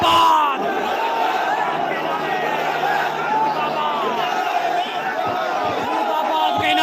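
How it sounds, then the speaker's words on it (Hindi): A protest crowd in Ghatmika loudly chanting 'murdabad' slogans against the Congress government and Chief Minister Ashok Gehlot, many voices shouting together in a continuous, dense babble. "जोर जोर से मुर्दाबाद और कांग्रेस मुर्दाबाद के नारे लग गए"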